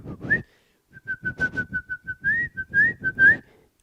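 A person whistles a short tune alone, a clear series of bright sustained notes in a steady, slightly varying melody with brief gaps between phrases.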